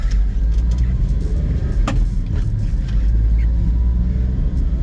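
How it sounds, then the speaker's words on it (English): A 1999 Mitsubishi MiniCab 4x4 mini truck with HI-LO gearing drives along, its small engine rumbling loud and steady from start to finish with road noise and a few brief clicks and knocks over the drone. "Okay, let's see how this truck gonna drive."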